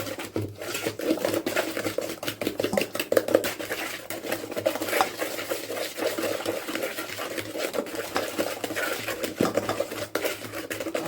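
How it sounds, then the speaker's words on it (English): A wooden spoon beats butter-based banana bread batter in a bowl with steady, rapid stirring. The rhythmic knocks and scrapes against the bowl sound close and continuous, with no voices. "This would be better using a whisk, but I don't have a whisk, so I'm using a wooden spoon."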